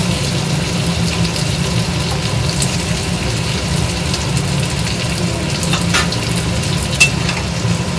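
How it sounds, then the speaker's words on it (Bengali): Capsicum pieces fry in a hot pan, a loud, continuous close sizzle with a low rumbling undertone and occasional sharp crackles and pops. "এবার আমি ক্যাপসিকামগুলো দিয়ে দেবো ক্যাপসিকামগুলো ভালো করে ভেজে নেবো"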